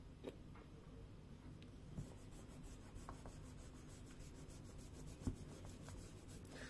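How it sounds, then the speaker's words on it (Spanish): An eraser rubs out a pencil-drawn circle on paper, making a soft, quiet scrubbing with a few light taps, close and faint. "Borramos el círculo entonces."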